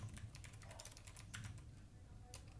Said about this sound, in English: So let's type the title of the questions.